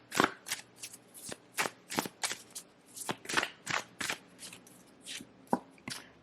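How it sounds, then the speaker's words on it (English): Oracle cards being shuffled by hand, a run of crisp riffling bursts and soft slaps repeating at a steady, uneven rhythm, close and clear with no talking. "I do want to pull some oracle cards here, though, just to get a little bit more information."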